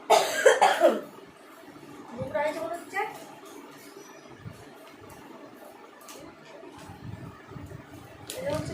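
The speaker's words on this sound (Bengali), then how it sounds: "কাশতে হবে" A person coughs hard several times at the start, then a few quieter coughs and throat sounds follow at intervals, close to the mic indoors, with a faint fan hum and some speech in between.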